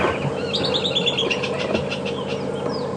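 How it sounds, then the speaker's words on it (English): An agitated squirrel alarm-calls at a game reserve in the bush, repeating a rapid series of sharp, chirping calls over a steady background of engine hum. "And this is a very cross squirrel."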